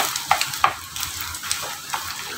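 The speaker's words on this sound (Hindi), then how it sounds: "तो बस अंडों को ना इस तरीके से पलट दें ताकि दूसरी साइड भी इसकी पक जाए" Eggs fry in a pan for egg fried rice, giving a soft, continuous sizzle with light stirring and scraping clicks close by, with no talking.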